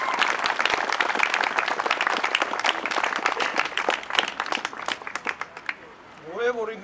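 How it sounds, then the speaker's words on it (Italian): Audience clapping at a monument inauguration ceremony for former internees, dense steady applause from a gathered crowd that gradually thins and fades before a speaker's voice returns at the end. "e vorrei un applauso."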